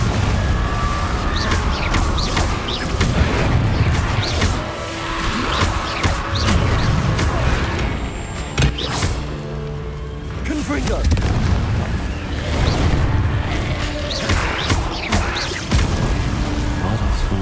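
The Confringo explosive spell goes off in Hogwarts Legacy, with loud booming blasts in repeated waves that fade briefly near the middle before returning with heavy, rumbling force.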